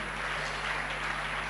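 A church congregation claps together in a dense, steady wash of applause that fills the whole moment at a loud, even level.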